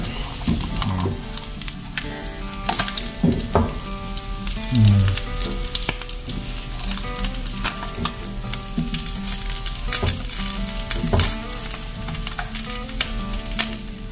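Fish fries in hot cooking oil, giving a steady, loud sizzle that runs throughout with small clinks and stirring noises.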